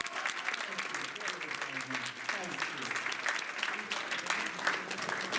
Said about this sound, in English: would you please turn around to a resounding round of applause